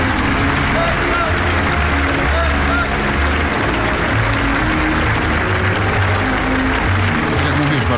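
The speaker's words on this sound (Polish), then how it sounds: "rozlegają się brawa" Crowd at the presidential funeral of Lech and Maria Kaczyński breaks into loud, sustained applause, a dense wash of clapping that runs unbroken throughout, with a commentator's voice underneath.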